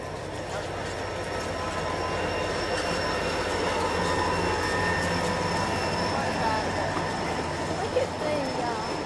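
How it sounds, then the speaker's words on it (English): A train passes on a summer day in Alaska, a continuous rolling rumble with rail clatter and faint wheel squeal that holds steady and close, while people chat over it. "Here comes the train."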